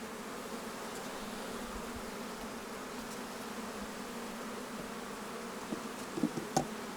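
Bees hum in a continuous, droning buzz, fairly close and steady throughout, with a few small clicks and taps near the end.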